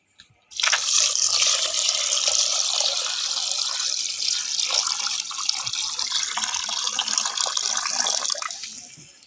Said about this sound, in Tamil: இப்போ 3 டம்ளருக்கு வந்து 6 டம்ளர் தண்ணி ஆட் பண்ண போகிறோம்.